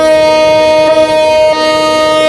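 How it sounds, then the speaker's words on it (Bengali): A train horn in the Train Simulator Bangladesh mobile game blares as one loud, steady, tonal blast that holds for the whole stretch, with no talk. "এটা হচ্ছে ট্রেনের যে হর্ন আমি একটু হর্নটা তোমাকে শোনাই"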